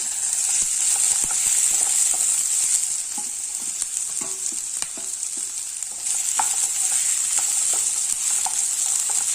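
Diced potato and capsicum sauté in a hot pan for capsicum rice, giving a steady, close sizzle with occasional scrapes and stirs of the spoon throughout, no voices.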